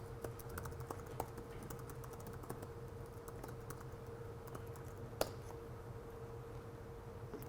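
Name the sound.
typing a command on a computer keyboard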